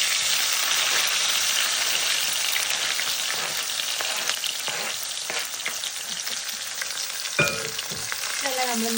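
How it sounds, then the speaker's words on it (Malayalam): Tomato, onion, ginger and garlic sauté in a pan after mustard seeds pop, giving a loud, continuous frying sizzle with faint stirring scrapes throughout. "ഇതെല്ലാം നമ്മൾ നല്ലപോലെ വഴറ്റുക"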